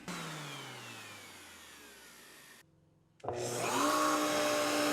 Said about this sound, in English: now it's close enough that I can use my random orbital 220 grit and just get that ready for finish and epoxy